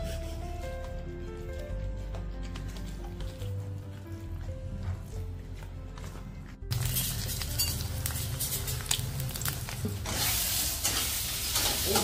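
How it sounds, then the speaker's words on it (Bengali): Egg bhuji scrambling in a home kitchen pan, sizzling steadily with repeated stirring scrapes and occasional clinks, growing louder and denser partway through, with soft music underneath. "এই ডিম ভুজি করছি"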